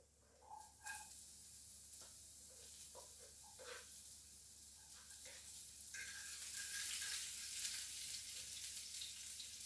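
Onion dropped into a pan with minced garlic, frying at moderate heat, giving a soft, steady sizzle that builds gradually, with a few light clinks and scrapes of tossing at the start.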